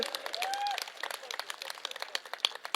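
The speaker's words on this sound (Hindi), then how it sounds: "अरे ताली बजा दो, बहुत मेहनत करके बनाया है।" An audience claps at a welcome event in Chandigarh, a steady patter of many hands over about three seconds with a whistle-like tone early on and some voices mixed in.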